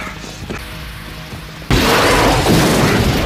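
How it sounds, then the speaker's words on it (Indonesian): A loud helicopter explosion erupts suddenly partway through, cutting off a quieter rumble and leaving a sustained roaring blast of noise. "sebelum akhirnya helikopter meledak"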